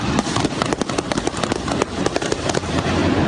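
Rapid bursts of loud gunshots crack in an intense, irregular volley near a cash machine on an avenue in São Paulo before dawn, with dense overlapping reports throughout.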